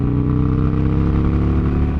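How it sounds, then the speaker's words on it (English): A motorcycle fitted with a Hammer Performance 1250 kit idles loud and close in a deep, throbbing, aggressive rumble, holding steady throughout. "It also made the bike sound freaking amazing. Like, this thing sounds so aggressive."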